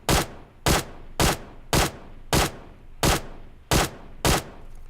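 Eight evenly spaced single shots from a QBZ assault rifle in PUBG Mobile, each a sharp loud crack with a brief tail, fired at a steady rhythm of roughly one every 0.6 seconds, with no talking.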